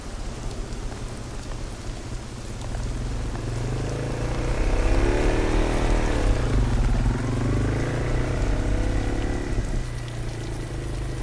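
Steady, heavy rain hisses and patters in a dark zombie-horror scene, a dense continuous wash with a low rumbling drone swelling and fading partway through, and no voices.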